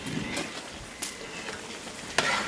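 A pot of chicken biryani is stirred with a spoon ahead of dum cooking, soft scraping and gentle sizzling with a few sharper clinks of the spoon against the pot, close and fairly quiet, with no speech.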